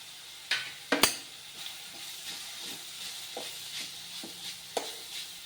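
Curry leaves, coriander and mint hit a hot pan with ginger and garlic, giving a few sharp crackling pops early on, then a soft, sputtering sizzle with scattered spits.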